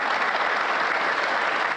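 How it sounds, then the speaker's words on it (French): Warm applause fills a parliamentary assembly after an hour-long speech, a dense steady roar of many clapping hands, loud and continuous throughout. "Son discours d'une heure est chaleureusement applaudi par la gauche."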